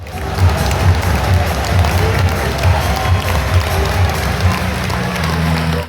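Football stadium crowd at an Accrington match, a minute's applause for Sven ending: a loud, dense roar of massed clapping and cheering filling the ground, steady throughout and cut off abruptly at the end.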